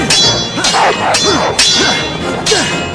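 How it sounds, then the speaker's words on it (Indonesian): Metal swords clash repeatedly in a comedic film sword duel, with four loud, ringing clangs spaced about half a second apart, each followed by a brief swish. "Pertarungan pedang mereka pun sempat terhenti beberapa saat"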